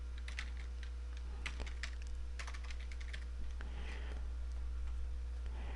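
A computer keyboard being typed on to enter a file name, with quiet irregular keystrokes scattered across the span over a steady low hum.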